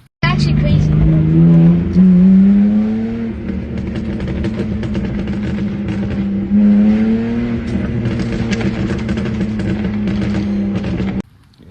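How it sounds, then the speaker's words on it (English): A BMW 328i xDrive with a popping exhaust tune revs loudly nearby, its engine note rising and falling in two long pulls with crackling pops scattered through, a voice faintly present underneath. "I wouldn't say a burble tune, but like a popping tune with the exhaust."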